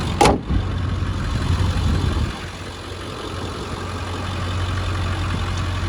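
Lifted 2001 Ford F-250 with a 7.3L diesel and 191k miles idling during a blow-by test, a steady low diesel hum after a brief sharp knock at the start, with no talking.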